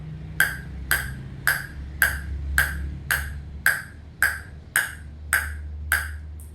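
A table tennis ball bounces on a LOKI RXTON 7 Pro blade, making about eleven crisp, evenly spaced pings that sound close and clear over a faint low hum.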